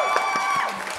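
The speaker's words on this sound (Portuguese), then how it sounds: "Palmas pra Aninha, produção!" A studio audience at a podcast taping bursts into applause and cheering for producer Aninha, with dense clapping and whoops filling the whole second at close, steady loudness.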